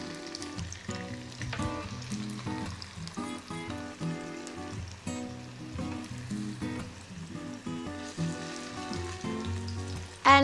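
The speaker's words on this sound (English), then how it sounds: "go ahead and fry our jackfruit sweet balls" Jackfruit sweet balls fry in a generous pool of coconut oil, giving a steady crackling sizzle that runs throughout at moderate volume under background music.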